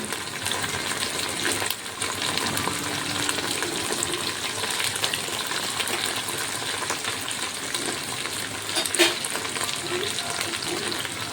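Butter cubes sizzle in a hot pan while fry piece chicken biryani is being cooked, giving a steady, continuous frying hiss close by with faint clinks throughout.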